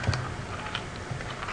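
Rapid clicking on a computer keyboard while a web page is being edited, irregular close-up keystrokes in a quick burst with no talking.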